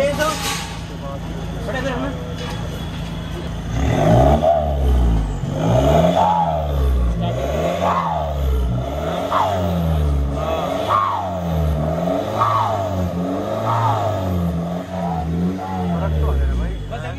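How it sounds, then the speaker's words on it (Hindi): A Scorpio S11 fitted with a straight pipe exhaust revs repeatedly in rhythmic pulses, its deep loud engine note rising and falling close up while people talk over it. "वहाँ से आगे से रेव करना"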